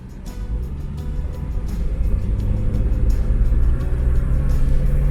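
A Jeep Cherokee XJ engine idles with a slight misfire, a steady close low rumble that builds a little in loudness, with faint uneven pulses through it.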